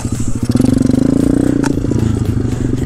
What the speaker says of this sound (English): Honestly, this thing's fun to ride around on.